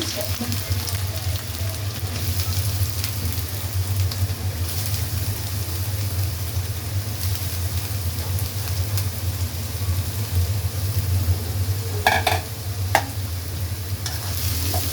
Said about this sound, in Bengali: পেঁয়াজটা আমি পাঁচ মিনিটের জন্য লাল লাল করে ভাইজে নেব